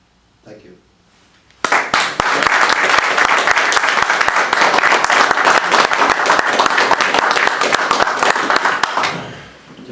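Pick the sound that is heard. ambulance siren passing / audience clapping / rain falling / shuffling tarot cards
audience clapping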